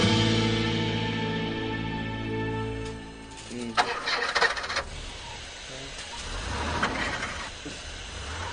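A car engine cranks and revs in short, uneven bursts with some clatter, after a stretch of music.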